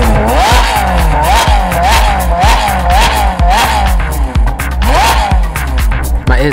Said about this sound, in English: So this Ferrari 458 Speciale is not standard. It's fitted with a frequency intelligent exhaust,